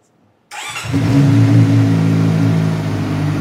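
A CF Moto Boom 500 SR motorcycle on its stock exhaust cranks briefly after a moment of silence, then fires and settles into a loud, steady idle with a deep throbbing note, heard close and alone.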